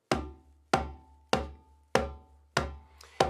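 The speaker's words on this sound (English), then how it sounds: "what you want to do is start off with a tone we call the bass tone" Six evenly spaced bass tones struck on a conga with a flat palm, each a deep, rounded thump that decays quickly, heard alone and fairly quiet.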